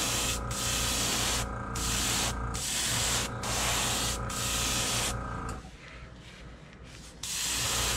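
An airbrush sprays paint onto a crankbait fishing lure in close, loud hissing bursts that start and stop in a steady rhythm, with a quieter stretch near the end and no talking.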